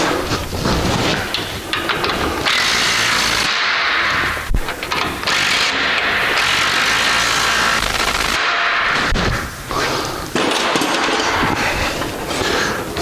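A power tool drives sway bar bushing bolts back in on a GM GMT800 truck during a steering gearbox job, giving loud rapid impact-wrench hammering bursts with brief pauses between them.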